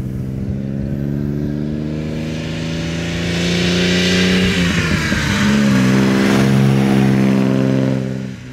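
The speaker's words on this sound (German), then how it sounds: "Das ist ein 6-Zylinder-Motor in Reihe mit ungefähr 110 PS." A 1938 Alvis Speed 25 SB with an inline six-cylinder engine of about 110 hp drives along, its steady drone swelling as it accelerates, dipping briefly at a gear change, then pulling strongly again.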